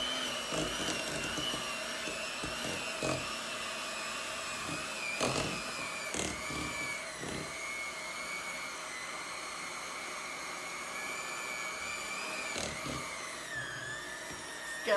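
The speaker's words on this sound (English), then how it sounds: "Having a hard time, my mixer." Electric mixer with dough hooks labouring through a stiff peanut butter muffin dough, a steady strained whine and hum with knocks and clunks, close and moderately loud, with no voices.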